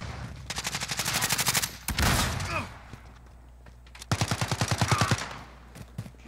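Close, loud bursts of rapid automatic gunfire from a Modern Warfare first-person shooter rattle in two long strings, separated by a heavy thump and a brief pause, with a few more shots at the end.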